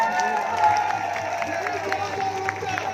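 A crowd at a religious fair claps and cheers together in a steady, continuous wash of applause and voices, held at an even level throughout.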